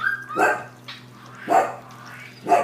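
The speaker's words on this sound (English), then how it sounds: "We got dogs barking" A dog barks three times outdoors at moderate distance, sharp separate barks about a second apart over a steady low hum.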